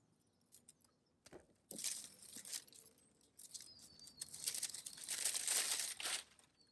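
Stems of a plant in a small north-facing garden being cut back in late April, giving scattered crisp snips and rustling crinkles of foliage that grow busier and denser toward the end, close by with no talking.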